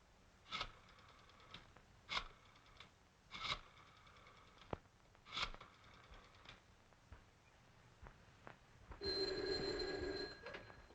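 An office telephone rings once near the end, a bright sustained bell burst lasting about a second and a half. Several sharp knocks and clicks come before it over a quiet room hiss.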